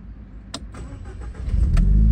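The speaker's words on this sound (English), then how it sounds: "Just going to start the engine." A Vauxhall Astra VXR engine cranks with a brief starter whir, then catches and settles into a rising, loud idle rumble heard close up inside the car, with no talking.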